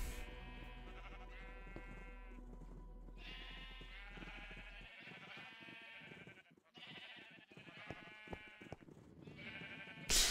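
A flock of Minecraft sheep bleat over and over, their wavering cries overlapping into a dense, nearly constant chorus. A low hum sits underneath for the first half, and there is no speech.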